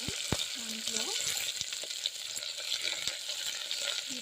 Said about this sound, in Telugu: కొంచెం ఫ్రై అయిన తర్వాత దీంట్లో పచ్చిమిర్చి వేసుకుందాం. తర్వాత ఆనియన్స్ వేసుకుందాం.